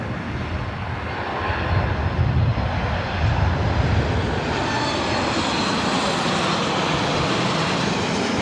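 A jet airliner arriving from Las Vegas roars steadily at LAX, a broad continuous engine rumble and hiss that swells slightly and holds for several seconds with no talk.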